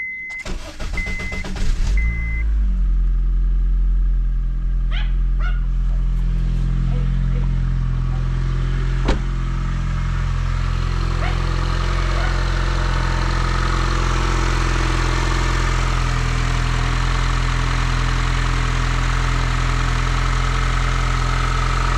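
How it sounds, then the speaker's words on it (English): A starter whirs briefly before the engine fires, then settles into a loud, steady idle with a low rumble that continues throughout. "I'm gonna start it up and see how everything's running."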